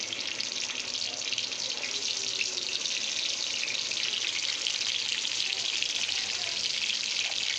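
Green chillies hit hot oil in a kadhai and fry with a steady, dense hiss and sizzle that holds at an even, fairly loud level throughout, close by and without talk.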